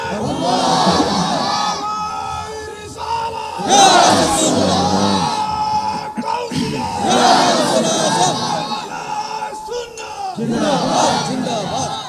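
A large crowd answers a preacher's Takbir call at a Bangladeshi religious gathering with loud, repeated chants of Allahu Akbar, bursts of massed voices rising and falling in waves over roughly twelve seconds.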